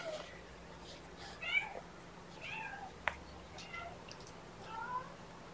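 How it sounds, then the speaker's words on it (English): A kitten gives several faint, thin meows spread across a quiet room during feeding time, the mother cat nearby eating wet food, with soft background hum. "Meow."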